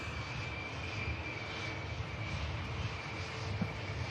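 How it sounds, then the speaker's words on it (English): An Air France Airbus A220 jet at Manchester Airport, its engine a steady, continuous distant roar with a faint whine, no talk over it. "Air France Airbus A220 heading back to Paris, Charles de Gaulle."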